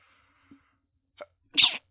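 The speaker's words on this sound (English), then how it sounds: "My sneeze sounds like a high-pitched mouse's squeak." Faint little stirrings, then a single short, high-pitched sneeze, close to the listener.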